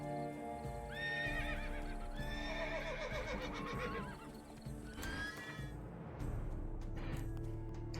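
A horse whinnies in rising, wavering neighs over a steady background hum, followed by a few hoof clops, in the video game The Witcher 3.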